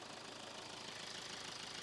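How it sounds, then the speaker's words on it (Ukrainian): Toyota Corolla Verso 2.2 D-CAT diesel engine idling with a steady, even clatter, heard close and fairly faint, unchanging throughout with no voices. "Мотор працює чітко, гарно."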